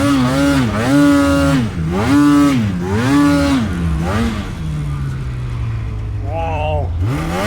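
A Polaris 9R snowmobile fitted with an Arctic Cat track revs hard in repeated rising pulls, then settles into a steady, loud engine drone near the end.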